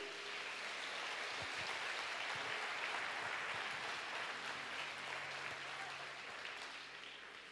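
A church congregation applauds during a service, a soft, even wash of clapping that sounds distant and continues steadily before easing slightly at the end.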